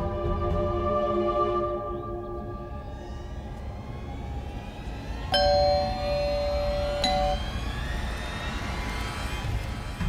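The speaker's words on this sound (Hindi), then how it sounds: "घंटी बजा।" Two bright electronic chimes ring out a couple of seconds apart, heard over a busy, noisy background.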